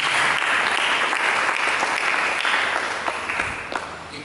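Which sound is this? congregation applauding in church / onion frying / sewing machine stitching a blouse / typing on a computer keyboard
congregation applauding in church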